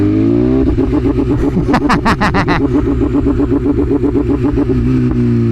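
A BMW S1000RR sport bike's engine bounces hard against its pit limiter, a loud, rapid stuttering burble that holds steady with crackling pops partway through, close and continuous with no voices.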